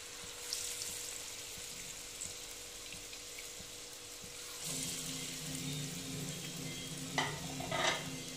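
Chana dal fritters (bora) frying in oil on low heat, a quiet steady sizzle that grows louder and fuller midway, with a couple of brief scraping or clinking sounds near the end, no talk.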